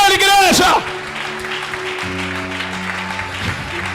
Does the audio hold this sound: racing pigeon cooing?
no